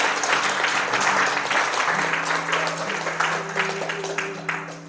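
A church congregation applauds after a sermon with sustained, even clapping from many hands at moderate volume, a faint low tone underneath and no talking.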